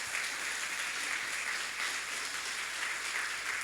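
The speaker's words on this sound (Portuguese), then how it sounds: "Pode aplaudir Jesus" A church congregation applauds, a steady dense wash of clapping filling the room without pause, loud and sustained.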